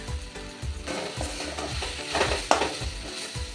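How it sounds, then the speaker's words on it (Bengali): A spatula stirring fried greens mixed with grated coconut and jaggery in a pan, rhythmic scraping strokes repeating steadily over a soft sizzle, close by, with one sharper clink and no speech. "এবার নারকেল কোড়াটাও ভালো করে মিশিয়ে নেব।"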